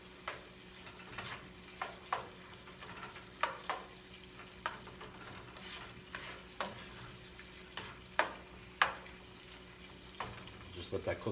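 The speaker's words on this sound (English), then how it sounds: "There's that nice sizzle we always talk about." Shrimp sizzle in a frying pan for lemon garlic shrimp, a soft continuous crackle punctuated by repeated scrapes and taps of stirring, close and fairly quiet.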